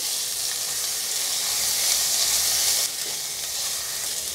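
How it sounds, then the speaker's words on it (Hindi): Crushed ginger and green chili with garlic sizzle steadily in hot oil in a pan for sambar, a loud, continuous hiss close by, easing slightly near the end. "अदरक और हरी मिर्च को कूट कर लेना है इससे बहुत अच्छा फ्लेवर आता है इसे भी थोड़ा सा फ्राई कर लेते हैं हम"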